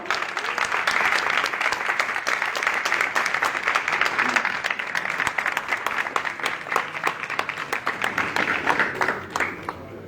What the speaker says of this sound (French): manifestez un tonnerre d'applaudissements